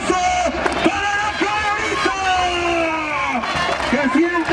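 Crowd at a jaripeo bull-riding rodeo in Santa Fé de la Laguna, Michoacán, roaring and cheering steadily throughout, with whoops and a dense hubbub of voices over a constant wash of noise.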